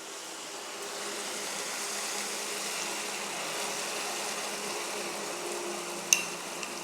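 Capsicum and carrot stir-frying for homemade chow mein as soy sauce goes in, a soft, steady sizzle with faint stirring and one small clink near the end.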